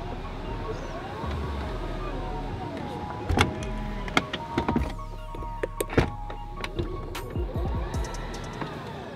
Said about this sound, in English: You can close the door on each side from this button here.